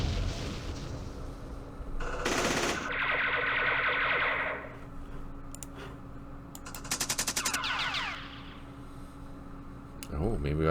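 Machine gun fire in the Vietnam-era wargame Campaign Series Vietnam at the Battle of Hue: a rapid burst of processed, echoing shots stands out mid-clip alongside other synthetic battle effects and an electronic hum.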